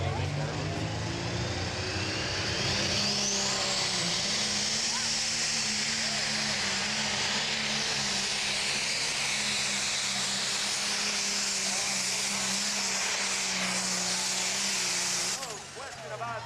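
A pro stock pulling tractor with a V8 Perkins engine gives a loud, sustained roar and hissing whine at a tractor pull in Mercer, PA, with an announcer talking over it.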